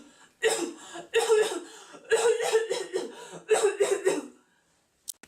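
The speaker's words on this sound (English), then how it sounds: "non-stop bronchitis like coughing" Repeated bursts of harsh coughing, loud and close, in four clusters with short pauses between, ending in near silence with one faint click.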